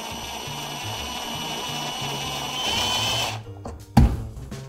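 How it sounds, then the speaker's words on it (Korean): A screwdriver bit presses into a stripped, flattened screw head and turns slowly, giving a steady whirring buzz, then a brief pause and a sharp knock near the end. "꾹 누른 다음에 살살 한번 풀어볼게요"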